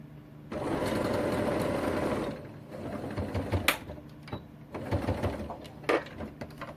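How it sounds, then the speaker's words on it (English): A sewing machine stitches a pant pocket closed, its motor whirring in a loud, steady run for about two seconds, followed by intermittent fabric handling and shorter stitching bursts. "you're gonna sew your pocket closed"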